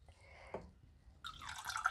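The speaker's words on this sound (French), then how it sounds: "Donc on ouvre le robinet" Aboard a sailboat, a faucet is opened: a faint drip and small clunk come first, then water starts running from the tap, a soft hissing stream that grows slightly louder toward the end. No one speaks.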